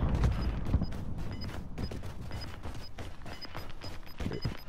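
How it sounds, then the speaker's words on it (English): Dense gunfire in a video game crackles in rapid bursts and scattered single shots, mid-distance and continuous, with clattering impacts throughout. "They're shooting somebody up the hill."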